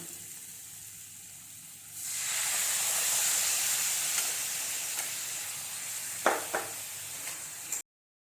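Spices, including ground cumin, sizzle in a hot pan for steamed fish with white mustard: quiet background hum, then a loud sudden hiss of frying that stays steady, with a couple of clinks near the end before abrupt silence.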